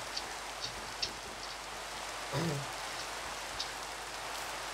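Steady rain falls in a Minecraft biome where snow and rain come down side by side, a constant hiss of drops with a few brighter patters and one short low thud midway, no talking.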